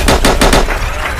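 Gunshot sound effect in a music track, a quick burst of four or five loud rapid shots like machine-gun fire, followed by a reverberant tail.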